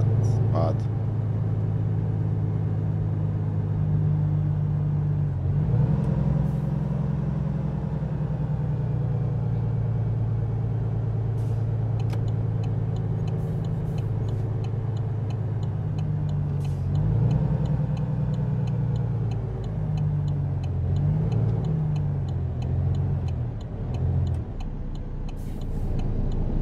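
Low, steady drone of a Volvo car engine and road rumble while driving, a continuous in-cabin hum with slight pitch shifts and a faint ticking, under a speaking voice.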